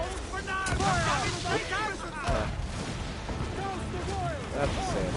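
Booming ship cannon fire in the pirate naval game Assassin's Creed Black Flag, with several heavy blasts rolling under crew shouts and orders amid a dense, loud battle din.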